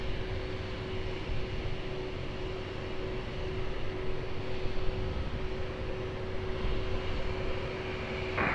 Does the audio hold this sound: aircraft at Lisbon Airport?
yes